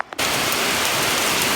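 Heavy rain pouring down onto a porch and into rainwater barrels: a sudden, loud, dense hiss that starts after a brief quiet moment and then holds steady and close, with no voices.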